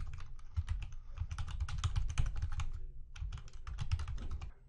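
Rapid bursts of computer keyboard typing as a password is entered on a network device login, close clicky keystrokes in quick clusters with a short pause midway, no talk.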